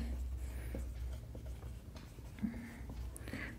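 Pen scratching across a paper sheet while working a Class 12 maths exam solution, with faint, irregular strokes and taps set against a low background hum.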